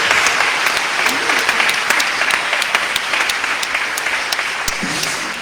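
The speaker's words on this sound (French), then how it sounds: "Est-ce qu'on peut l'applaudir" An audience at an evening praise and worship gathering applauds steadily, with dense, continuous clapping that stays loud and even throughout.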